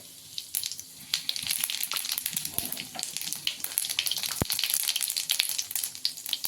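Mustard seeds frying in hot oil in a home kitchen, a dense continuous crackle of tiny pops and sizzle with one sharper snap, steady and close.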